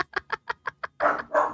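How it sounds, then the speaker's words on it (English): Unagi, a pet parrot, calls up close: a run of six short, evenly spaced chirping notes, followed by two longer, louder squawking calls. "your bird sounds so freaking cute"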